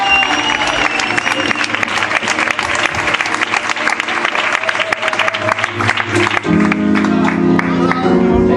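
A congregation applauds loudly in church during a Good Friday service on the seven last words of the cross, strong crowd clapping and some cheering, with music and sustained tones joining toward the end.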